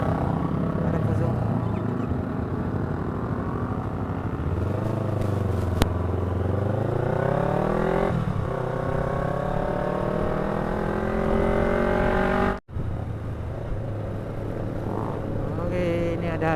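A Yamaha Jupiter Z motorcycle engine revs loudly and continuously on a group Sunday ride, pitch rising and falling through several throttle blips, with voices talking underneath.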